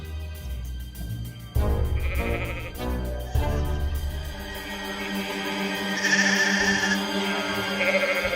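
Goats bleating in several wavering calls, some overlapping, with a couple of sharp knocks early on, close and clear with no talking.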